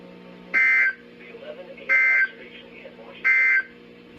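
NOAA weather radio warning alarm tone from a National Weather Service broadcast for the Washington metro area: three loud, steady tone bursts about a second and a half apart, each lasting roughly a third of a second, with faint background hum between them.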